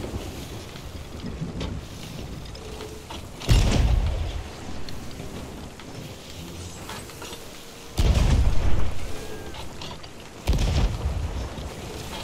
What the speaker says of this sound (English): Get on the left side cannon. Start firing.